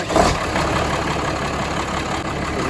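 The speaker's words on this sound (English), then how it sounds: "I'll start the tractor." A Ford/New Holland tractor engine runs at a steady idle close by, a low continuous rumble with a slight bump at the start and no talking.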